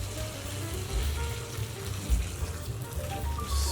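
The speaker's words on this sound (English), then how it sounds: "all we need to do is top this up with boiling water" Boiling water poured from a kettle over rice noodles in a bag, a steady close splashing and trickling stream with a few louder gushes, no voices.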